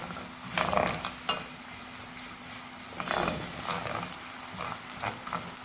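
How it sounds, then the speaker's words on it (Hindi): Onion frying in a pan for chicken jalfrezi, with ginger garlic paste, gives a soft, steady sizzle and a few scraping stirs, moderately quiet throughout with no talking. "1 टेबलस्पून भर के प्याज के साथ ही फ्राई करेंगे"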